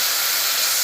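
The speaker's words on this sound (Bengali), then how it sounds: "জল ঢেলে দিলাম" Water poured into spice masala frying in a pan sets off a loud, steady steam hiss that fills the whole short moment, with no talking over it.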